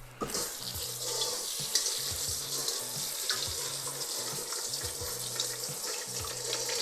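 Water from a kitchen tap runs steadily into a sink while a meat grinder is rinsed of minced pork, a continuous close hiss with faint clinks underneath.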